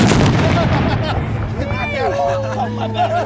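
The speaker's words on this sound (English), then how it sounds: "that's the biggest gun you ever shot" A large gun fired at a spring camporee: a loud boom opens the clip and decays into rumbling echo and crowd noise, with people talking and cheering around it.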